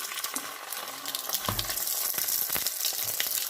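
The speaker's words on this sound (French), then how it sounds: "Donc je vais faire frire les poissons." White fish frying in hot oil gives a steady, dense sizzle throughout, with a few soft thumps and stirring sounds near the middle.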